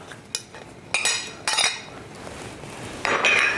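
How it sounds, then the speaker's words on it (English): Cooked barley is spooned into a pot of vegetarian lentil soup, with a few sharp metallic clinks and scrapes of a utensil against the pot, close by and moderately loud, with wet stirring in between. "I'm going to throw in some barley that I cooked up the other day"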